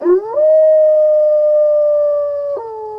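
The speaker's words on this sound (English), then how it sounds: "The wolf, she howls a greeting out to Eagle" A single long, clear wolf howl rises at the start, holds a steady tone, then dips slightly near the end, loud and close with nothing else heard.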